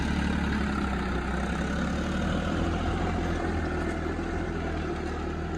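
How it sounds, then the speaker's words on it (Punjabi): A John Deere 5204 tractor engine drones steadily and loudly at close range while running at full high speed, a constant low rumble with no pauses or voices. "ਟਰੈਕਟਰ ਪੂਰੀ ਹਾਈ ਸਪੀਡ ਤੇ ਚੱਲ ਰਿਹਾ"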